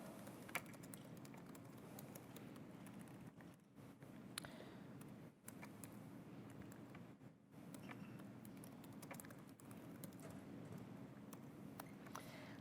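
Soft, continuous typing on a computer keyboard, a quiet, steady patter of keystrokes with brief pauses, heard alone.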